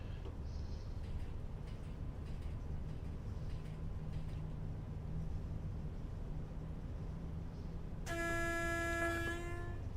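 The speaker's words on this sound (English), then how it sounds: "That's the train that we overtook at Crewe." A train in the Just Trains WCML Crewe–Preston simulator game passes with a steady low rumble before a loud two-tone horn blast sounds near the end.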